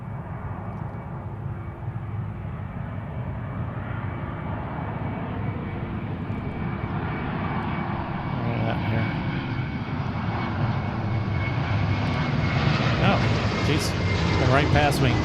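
An arriving jet airliner passes overhead at Seattle-Tacoma airport, a broad roar that swells steadily and grows louder and closer toward the end.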